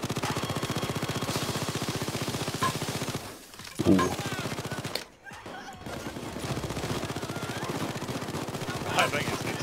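A sentry gun in the Payday 2 heist game fires dense, rapid automatic bursts almost continuously, loud and close, with a brief lull partway through before the gunfire resumes.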